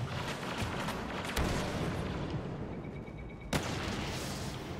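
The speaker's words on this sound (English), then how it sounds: "it's Blaster Cannon time for Seraph" A Blaster Cannon fires in a competitive video game match, heard as booming artillery-like blasts, with two sharp heavy impacts standing out over a dense, continuous battle din.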